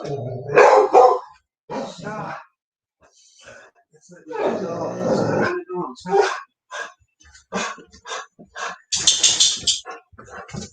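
A dog barks in several loud, close bursts that alternate with people talking nearby.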